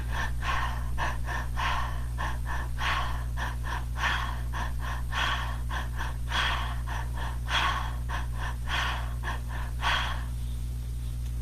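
Heavy, rhythmic in-and-out breathing during a breathwork exercise, a long even series of sharp, close breaths repeating about twice a second over a steady low hum, stopping abruptly near the end.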